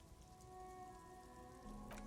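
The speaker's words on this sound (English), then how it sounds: "It's raining again." Rain falls in the video game Disco Elysium, a quiet, steady patter under sustained musical tones, with a slightly louder swell near the end.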